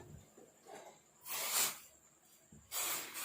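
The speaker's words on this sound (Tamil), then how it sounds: "நல்லா ஒரு ரெண்டு நிமிஷம் மட்டும் கொதிக்க வச்சுக்கோங்க" A weight-loss drink boils and foams up in a pot on a stove, giving soft bubbling with two loud bursts of hissing, steam-like fizz, close by and with no talking.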